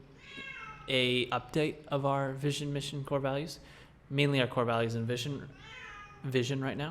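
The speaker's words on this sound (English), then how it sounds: "Let me let my beautiful cat in, who is interrupting this module." A house cat meows to be let in while a person keeps talking over it, with its plaintive calls mixed into the steady speech at close range.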